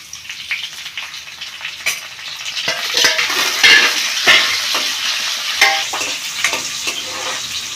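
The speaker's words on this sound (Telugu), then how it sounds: "నూనె వేడెక్కిన తర్వాత శనగపప్పు ఆవాలు జీలకర్ర వేసుకుంటున్నాం" Chana dal, mustard seeds and cumin fry in hot oil for a spinach onion-chilli dish, giving a steady close sizzle with scattered spatula scrapes and clicks of stirring throughout, no voices.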